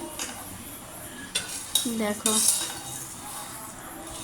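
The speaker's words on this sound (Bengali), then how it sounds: "মুড়ি ভাজা করছি একটু তেল দিয়ে" Puffed rice is tossed with oil in a pan at home, with several metallic scrapes and clinks of a utensil against the pan over a quiet background; a voice speaks briefly.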